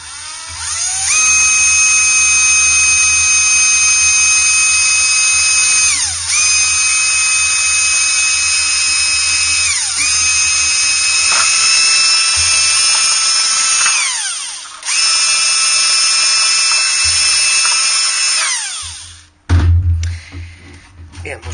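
An electric drill bores holes into a plastic Master System 2 console case to fit an AV output. The motor whines loudly in several long bursts of a few seconds each, with short pauses between them, then stops near the end.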